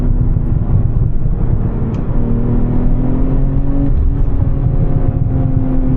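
A 2026 BMW M340i's engine hums steadily from inside the car during a night drive, a loud continuous drone with rising tones as it revs, with no talk over it.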